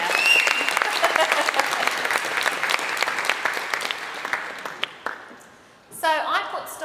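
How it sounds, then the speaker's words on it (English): An audience at a talk breaks into sustained, even applause that fills the room, then tapers off and fades before a speaker's voice returns near the end. "Can you give my assistants a round of applause here?"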